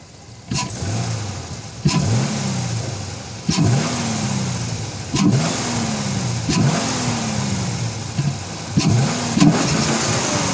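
An American V8 car engine revs repeatedly, about six sharp bursts each falling back to a rumbling idle, close and loud with no talking.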